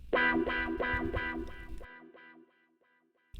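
A hip hop sketch made in BandLab plays a few punchy repeated chords through reverb and then a ping-pong delay set to eighth notes at a 50% mix. The notes cut off and leave fading echoes bouncing left and right.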